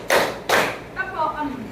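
Two sharp hand claps ring out in a classroom ice-breaker, close and evenly spaced, followed by a voice talking.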